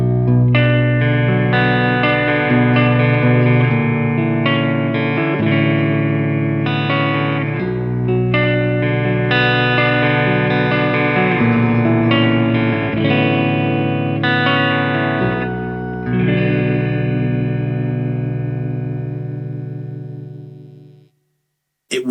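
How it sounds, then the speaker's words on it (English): A Schecter PT EX baritone guitar on its clean neck pickup plays a slow series of dark, ringing chords that sustain and overlap, loud and close, ending with a long fade to silence. "It's great for kind of moody sounding clean stuff, especially in the neck pickup if you're starting to play some quite dark sounding chords higher up the neck."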